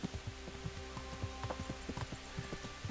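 Rhythmic clip-clop of horse hooves at a steady trot in the video game Kingdom Come: Deliverance, moderately close, over a faint ambient background.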